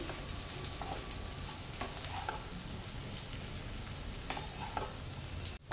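Hakka noodles with vegetables are gently stirred and tossed in a hot pan, giving a soft, steady sizzle with faint scraping and stirring strokes throughout, quiet and without talk.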